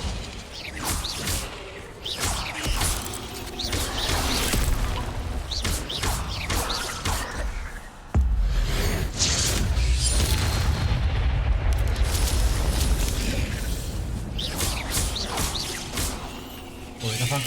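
The Incendio fire spell in the game Hogwarts Legacy bursts out in loud whooshing blasts and booming impacts, dense and continuous, with a heavy thump midway and combat noise layered throughout.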